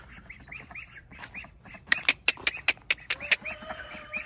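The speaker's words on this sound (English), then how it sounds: "Oh, them baby ducks." Baby ducks quack and peep in a quick series of sharp, close calls, growing louder and more rapid partway through, with soft outdoor background noise.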